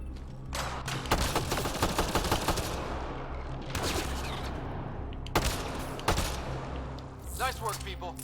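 Gunfire in the video game Mass Effect Andromeda, with loud rapid bursts of shots and shotgun blasts in several volleys, dense and close, with game voices speaking through the fighting.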